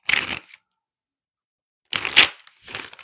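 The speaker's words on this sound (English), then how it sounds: "Let's do a few shuffles." A tarot deck is shuffled in two rapid bursts, a short riffle, a pause, then a longer ruffling burst with a softer trailing shuffle, close and crisp.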